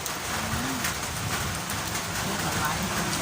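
Steady rain falls during an outdoor cooking session making a sour tamarind salad, a dense broadband hiss of drops on surfaces running throughout, with faint voices and a brief bird-like note in the background.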